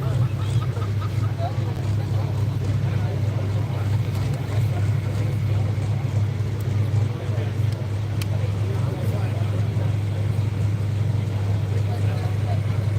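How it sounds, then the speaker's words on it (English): A John Deere pulling tractor with a canopy and new chrome rear rims rolls onto the track at a Cumberland farm tractor pull, its engine a steady, loud low rumble that holds evenly throughout beneath faint background voices. "here comes that sharp-looking John Deere with that awesome canopy there"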